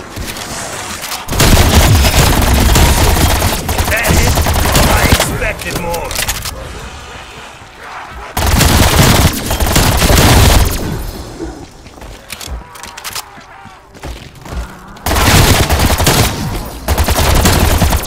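In Black Ops Cold War Zombies, an LMG fires in long, loud automatic bursts broken by short pauses, with other game sounds filling the gaps between them.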